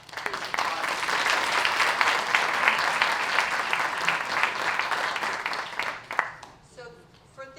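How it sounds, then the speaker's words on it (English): Loud, dense audience applause welcoming panelists at a talk on the healing power of nature, sustained for several seconds before tapering off as a voice starts speaking near the end. "Please applause."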